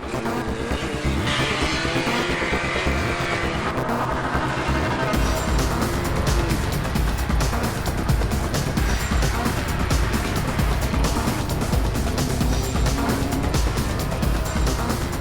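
A pack of racing cars pulls away from the start with a Morris Marina leading the field, engines roaring loud and close with revving, gear changes and tyre noise throughout.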